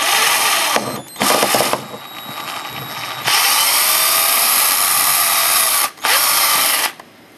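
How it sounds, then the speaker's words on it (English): Close, loud power drill whirring through metal in long bursts, stopping briefly between runs, as a hole is opened up to about 5 millimetres with successively larger number-size drills. "Then I'll open up this hole to about 5 millimeters using number size drills, one after another"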